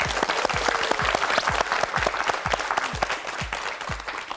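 A television quiz show studio audience claps together in a warm, steady burst of applause that continues evenly throughout without cheering.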